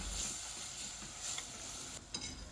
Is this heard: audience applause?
no